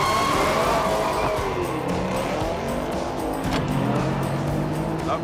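A highly tuned muscle car launches hard in a drag race, its engine roaring loud and close through a gear change, with tire squeal and a steady, continuous drone throughout.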